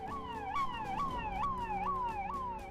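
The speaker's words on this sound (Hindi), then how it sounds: "सड़कों पर आपको ये लाल बत्ती लगी गाड़ियां और सायरन की आवाज अक्सर सुनने को मिलती होगी" An emergency vehicle siren on city roads in India gives a loud, fast, repeating yelping wail with a steady rising and falling cycle. It sounds close, with no talk over it.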